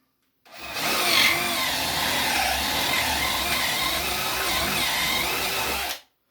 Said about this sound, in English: I'm going to take my big drill bit and I'm going to waller that hole out a little bit